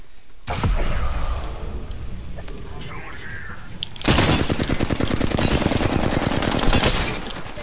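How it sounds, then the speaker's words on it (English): Rapid automatic gunfire in Apex Legends, a steady burst from about half a second that intensifies into dense, loud crackling volleys after four seconds and runs to the end, with game noise underneath. "The enemies are shooting at me."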